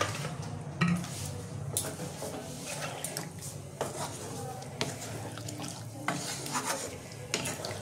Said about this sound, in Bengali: এবার আমি জল দিয়ে দেবো, পরিমাণ মতন জল দিয়ে দেবো